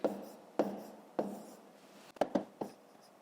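Someone writes numbers by hand, with a few sharp pen strokes and taps on paper spaced irregularly, close and quiet in a silent room.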